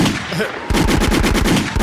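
Rapid bursts of gunfire crackle in a quick repeating rhythm, loud and close, after a brief stretch of muffled background noise.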